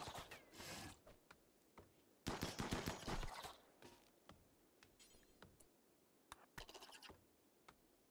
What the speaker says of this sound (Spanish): Le han pegado tiros a los perros.